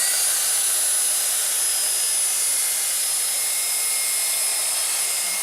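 A drill fitted with a masonry bit rakes old mortar out of a brick wall where a mantelpiece will go, a loud, steady, hissing grind that runs unbroken for several seconds with no voices.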